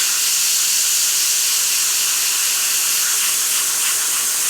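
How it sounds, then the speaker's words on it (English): An airbrush loaded with paint sprays a test burst onto a paper towel, giving a steady, airy hiss that runs continuously and closely throughout, with no voices. "And now we will spray. First a little test spray"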